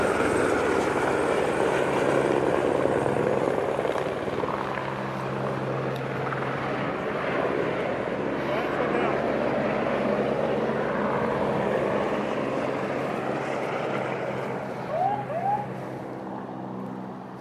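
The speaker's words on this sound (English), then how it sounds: "And customs helicopter in action." A customs helicopter flies over the US/Mexico border near Yuma, Arizona, a steady, loud rotor and engine drone that holds for many seconds and eases slightly near the end, with faint outdoor background.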